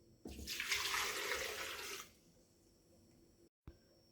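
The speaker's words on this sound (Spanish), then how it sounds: "en una procesadora colocamos las flores de achira y le agregamos medio litro de agua" About two seconds of water gushing loudly into a food processor holding canna flowers, half a litre poured in one steady stream before it stops. A small clunk follows in the quiet.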